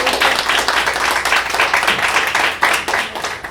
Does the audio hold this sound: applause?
yes